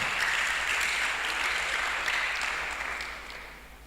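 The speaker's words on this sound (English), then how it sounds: "Please let's give a round of applause to the Vice Chancellor" A workshop audience applauds the Vice Chancellor, a moderately distant, steady round of clapping that tapers off in the last second.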